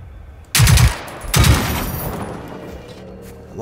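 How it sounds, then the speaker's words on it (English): Two loud, heavy gunshots from a gun in the Generation Zero video game boom out about a second apart, each followed by a long reverberating tail. "I love the sound of this gun."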